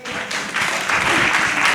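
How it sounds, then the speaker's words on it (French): An audience applauds at a university science-week ceremony honouring mathematics and computer science students of Université Cheikh Hamidou Kane, giving a steady, dense wash of clapping that swells slightly and holds for the whole moment. "je vous demande d'applaudir"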